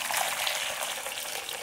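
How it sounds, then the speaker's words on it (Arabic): Hot water poured into a pan while preparing crunchy awama, an Arabic fried dough dessert, giving a steady close hissing splash that runs evenly throughout with no voices. "حطيت المية السخنة."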